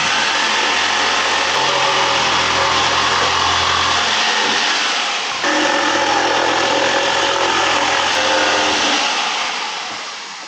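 A jigsaw cuts out a wooden shelf board for a VW Golf microcamper, giving a steady, loud motor buzz. It eases off once midway, then restarts and runs on until it fades at the end.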